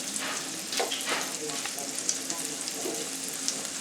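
Shrimp and sausage frying in a pan for Cajun alfredo pasta, a steady close hiss of sizzling oil with small pops and crackles, constant throughout with no talking.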